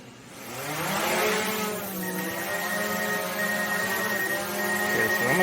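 A drone's rotors spin up into a high, steady buzzing whine that rises in pitch as it lifts off, with a thin tonal beep running over it.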